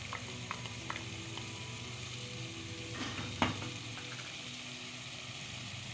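Masala of salt, turmeric, ground coriander, green chilli and cumin fries steadily in a pan for nargisi kofta, a soft continuous sizzle with occasional stirring scrapes and one brief louder clatter midway.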